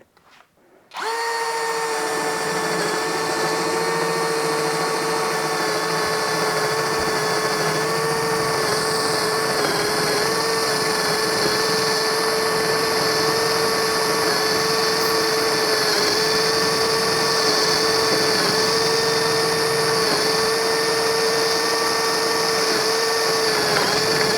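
A Saker 20V brushless drill boring at its lowest speed setting through lumber about 2¼ inches thick: a loud, steady motor whine that starts abruptly and holds constant at close range for over twenty seconds.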